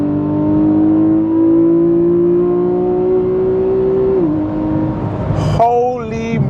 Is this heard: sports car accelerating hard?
yes